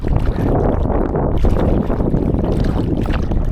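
A stiff headwind roars steadily over a small boat crossing choppy water, loud broadband buffeting of the microphone with wind and chop continuous throughout, no voices.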